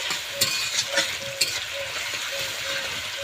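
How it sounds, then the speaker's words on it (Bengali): Sliced onions with a little salt fry in oil for biryani, crackling in a steady sizzle broken by several sharp scrapes of a spatula stirring the pan. "পেরেস্তাটা খুব ভালো করে ভেজে নেব।"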